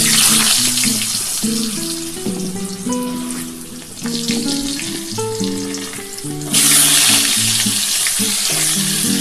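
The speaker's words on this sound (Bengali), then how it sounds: "এই তেলের মধ্যেই কিন্তু আমি আলুগুলো দিয়ে দিচ্ছি" Potatoes sizzle loudly in hot oil in a pan, a steady bright crackle that swells louder near the end, with background music running under it and no voices.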